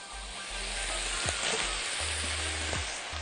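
Onions sizzling with meat in a hot pan for a stir-fry, a steady broadband frying hiss with low hum underneath and a couple of brief clinks from stirring, continuous and close.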